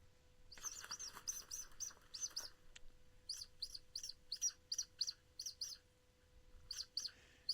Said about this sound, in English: I heard that bird chirp